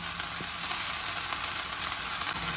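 Chopped amaranth and honagone greens fry for a palya, giving a steady close sizzle with faint stirring ticks and no one speaking.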